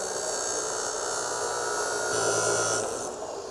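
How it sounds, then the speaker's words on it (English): A battery-powered chop saw cuts through steel off the grid, a steady high whining grind running loud and unbroken throughout, with a slight shift in pitch near the end as the blade finishes the cut. "we're gonna plug in the chop saw"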